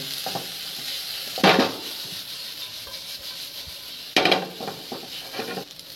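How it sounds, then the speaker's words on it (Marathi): Masala with turmeric and coriander powder fries in a pan over a low flame, with a constant soft sizzle broken by two loud bursts of spoon stirring and scraping. "आता मसाला मस्त फ्राय झाला आहे"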